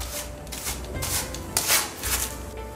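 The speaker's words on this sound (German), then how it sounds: "Das ist einmal das Auftragen vom Lehmputz." Clay plaster is spread onto an interior wall, producing repeated scraping and rubbing strokes of a trowel at a close, moderate level in an uneven rhythm.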